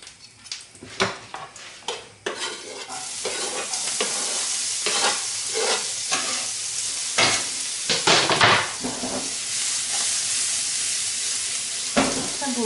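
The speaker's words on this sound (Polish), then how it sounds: "Cebulkę podsmażamy" Onion sizzling in a pan while being stirred, with scraping and clinking of the utensil against the pan over a steady frying hiss, close and fairly loud, no talk.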